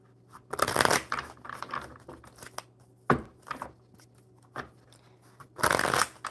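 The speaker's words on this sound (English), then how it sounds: "We'll shuffle these up really good." Deck of tarot cards being shuffled by hand, several crisp riffling and flapping bursts separated by brief pauses, close and moderately loud, with soft handling noises between shuffles.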